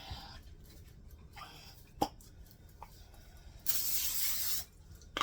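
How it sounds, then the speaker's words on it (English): A short hissing burst of cooking spray into a pan, about one second long, amid quiet kitchen clatter and a few soft clicks. "Let me do a little bit of spray on here."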